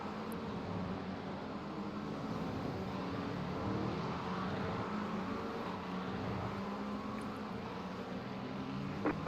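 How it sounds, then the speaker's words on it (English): A race car in the iRacing sim game at Portimão roars steadily, its engine drone and road noise holding at an even, loud level throughout with no talk over it. "Faster car coming up quick."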